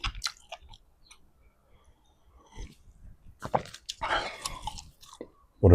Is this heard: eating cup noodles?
yes